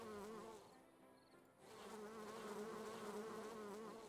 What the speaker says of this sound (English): Bees are happy.